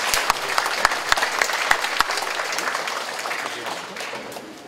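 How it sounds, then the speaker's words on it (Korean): An audience at an information session applauds steadily, sharp individual claps standing out early before the clapping thins and fades toward the end. "여러분 뜨거운 박수로 환영해 주시기 바랍니다."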